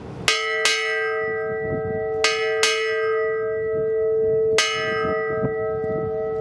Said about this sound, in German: hier haben wir erstmal die Hauptglocke